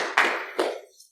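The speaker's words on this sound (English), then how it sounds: "Hey, big round of applause. Small round of applause." A few scattered claps from a small audience at a hacking games event, two distinct bursts that quickly fade to silence.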